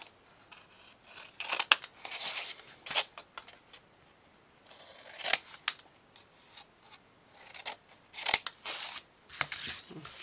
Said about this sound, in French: Ensuite là on coupe les angles, tac.